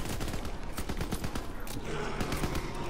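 Rapid bursts of video game gunfire crackle in a dense, sustained fusillade, loud and close throughout with no clear pauses.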